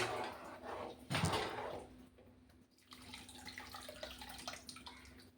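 Water splashes and runs into a cooking pot of boiling rice, a brief louder gush near the start, then a steady lighter pouring with small clinks.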